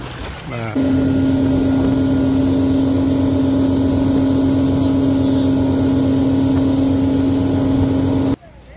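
A motorboat engine on a sea trip to Monkey Island near Bangkok drones loudly and steadily with a strong constant hum, starting up after a brief pause and cutting out abruptly near the end.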